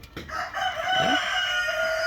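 Kuchi breed chickens on a commercial poultry farm, with a rooster crowing loudly and close over a steady background of clucking and fowl calls from the flock.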